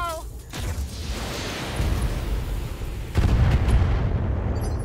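Gunfire from the Fallout video game, a dense continuous barrage of booming shots and blasts that swells louder near the end, with no clear pauses between reports.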